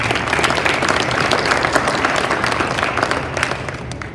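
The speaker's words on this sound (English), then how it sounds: "Let's give them a big round of applause." An audience at a Boys & Girls Clubs of the Los Angeles Harbor event claps in sustained, dense applause, loud and close, with no break for its full length.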